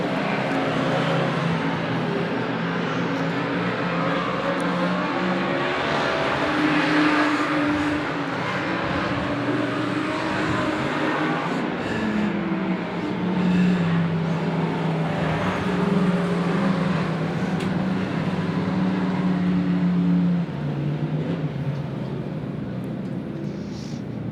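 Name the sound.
race cars racing on track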